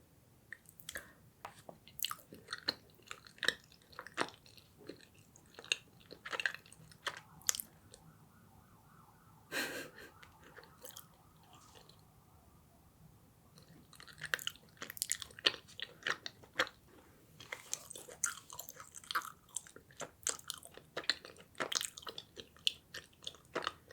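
A soft strawberry fruit rice cake, eaten plain without butter, is chewed close to the mic, with quiet repeated bites and moist chewing clicks in uneven bursts and short pauses between.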